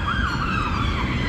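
A police siren wails loud and close on a street near a bus stop, its pitch sweeping up and down continuously over traffic rumble.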